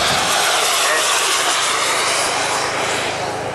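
Loud, steady roar of aircraft engines from two planes flying at head height during a display at the Rufforth air show, a continuous broadband drone filling the whole moment.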